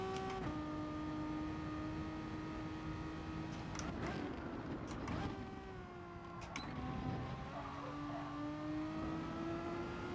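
A Renault Megane race car engine in GT Sport holds a steady, fairly faint drone with gear-shift pitch drops and rises, accompanied by brief tyre and contact noises in the middle.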